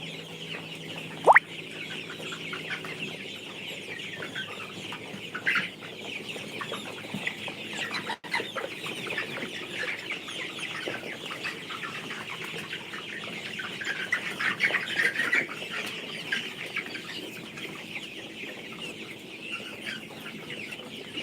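A flock of chickens clucks continuously at a moderate distance, a low busy murmur of calls with occasional sharper clucks and a brief clatter.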